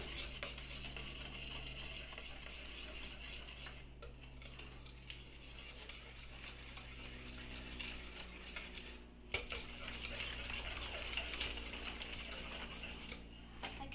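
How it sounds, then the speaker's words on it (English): A spoon stirs thick yogurt into eggless wheat-flour banana bread batter, giving a steady scraping and sloshing against the bowl for the whole stretch, close and continuous, with a brief pause near the middle and no talking. "this is half a cup of thick yogurt. Now let's stir this up too."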